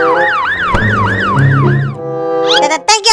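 An ambulance siren in a video game wails in rapid repeating up-and-down sweeps, loud and close, then breaks off into a few short synthetic game sounds.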